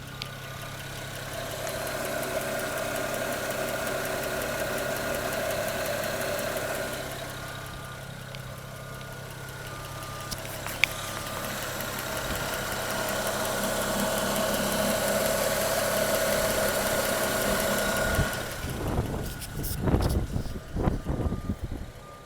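A 2007 BMW 335i hardtop convertible engine idles steadily, recorded up close by the belts, a smooth continuous hum with a few clicks and rattles toward the end.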